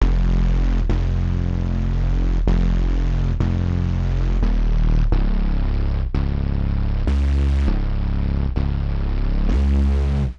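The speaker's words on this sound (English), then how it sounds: "Bass Center is a saw wavetable layered with some white noise," A Serum bass preset built from a saw wavetable layered with white noise plays as a run of loud sustained notes. Each note changes pitch with a sharp attack and carries a buzzy, hissy top. No voices.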